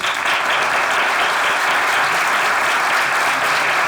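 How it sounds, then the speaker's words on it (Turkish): A burst of enthusiastic applause from an audience, dense and steady clapping filling the room for a few seconds. "bir alkış"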